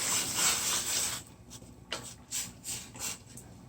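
Steady scraping of a spoon against a pot, with repeated rhythmic strokes as thick cornmeal porridge with coconut is stirred.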